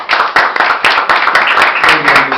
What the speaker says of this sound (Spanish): Le damos una ofrenda de palmas a nuestro buen Dios.